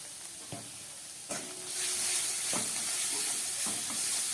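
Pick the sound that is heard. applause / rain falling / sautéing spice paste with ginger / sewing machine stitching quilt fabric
sautéing spice paste with ginger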